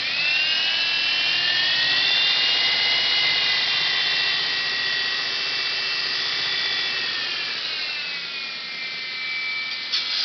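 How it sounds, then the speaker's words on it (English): A buffer-powered 48-inch belt grinder runs steadily at close range, a continuous high whine with shifting tonal lines that sag slightly partway through as the speed changes, loud and alone with no voices. "is a buffer-powered 48-inch belt grinder"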